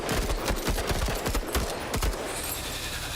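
Dense, rapid gunfire from a Menace tactical combat game, overlapping shots and bursts firing continuously throughout with no pauses and no speech.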